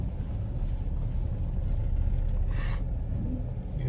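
A full-sized truck engine rumbles steadily while climbing an off-road hill, a loud continuous low drone with a brief burst of higher noise partway through and no talking.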